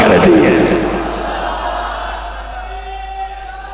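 Audience at a religious gathering roaring slogans in unison, a loud burst of massed voices at the start that fades into a lingering echoing hall ambience.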